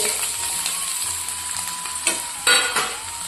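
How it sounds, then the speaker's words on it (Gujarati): Chopped spiny gourd sautéing in hot oil with cumin over a low flame gives a steady close sizzle, broken by a few louder scrapes and stirs of a spoon near the end. "ધીમા તાપે સાંતળતા રહીશું"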